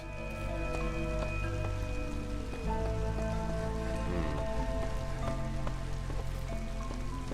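Light drizzle falls in the roguelite city builder Against The Storm, a continuous close patter of rain over soft sustained background music tones, steady throughout with no voices.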